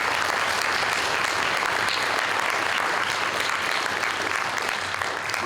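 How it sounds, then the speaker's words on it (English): An audience at a startup pitch event applauds steadily for the whole stretch, dense clapping from a crowd at even loudness without a pause. "one more round of applause for all of the pitches."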